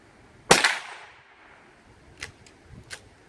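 A single .22 LR Velocitas round fires from a squeeze bore rifle, one sharp crack followed by a short decaying echo, then a few faint distant clicks and taps.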